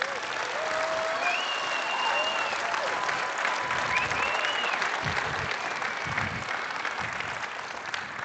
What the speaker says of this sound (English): Let's have another round of applause for our awesome kōrero